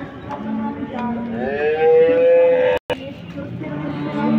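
At a busy livestock market a cow lets out one long, drawn-out moo close by, rising and sustained for over a second, amid background crowd noise and faint voices.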